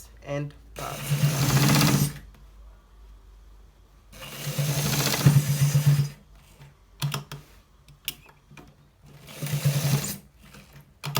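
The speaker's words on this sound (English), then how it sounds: "We are stitching it to make the end part." A sewing machine stitches the end of a designer shirt collar in three loud, fast bursts of steady whirring, with quiet gaps and a few short taps between runs.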